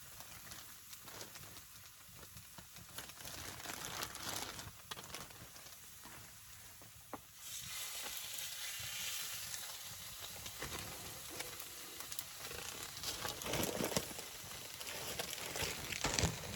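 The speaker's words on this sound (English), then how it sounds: "hear the sizzle" Two steaks sizzling in a pan over a camp stove inside a hot tent at dusk, a steady crackling hiss that swells louder about halfway through, close and continuous with no talking.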